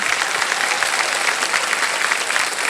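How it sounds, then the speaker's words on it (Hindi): Studio audience applause on a televised quiz show set, a dense steady clapping that fills the whole stretch with no voices over it. "तो इसके लिए भी हम आपके लिए ताली बजवा देंगे।"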